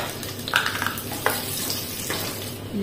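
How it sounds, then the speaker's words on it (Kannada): Mustard seeds sizzle and crackle in hot oil in a home kitchen pan, a steady frying hiss with scattered sharp pops close by, no voices. "ಸಾಸಿವೆ ಚಟಪಟ ಅಂತ ಹೇಳ್ತಾ ಉಂಟು."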